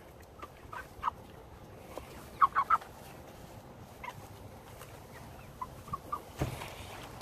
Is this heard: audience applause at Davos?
no